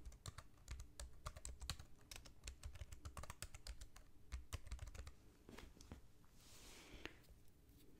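Rapid typing on a computer keyboard while entering all-capitals text for a scrolling breaking news ticker, with close, dense clicking keystrokes in an irregular rhythm that thins out toward the end, no speech.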